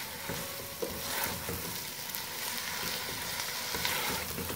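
Keema, 700 grams of minced meat, frying with onions for biryani, a loud, dense sizzle with spatula scrapes and stirring knocks, close up and without talk.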